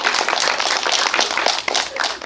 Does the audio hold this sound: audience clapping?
yes